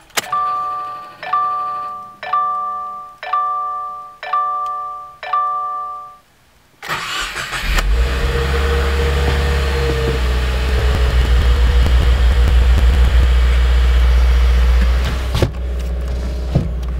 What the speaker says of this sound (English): I'm gonna turn on the vehicle now for the first time.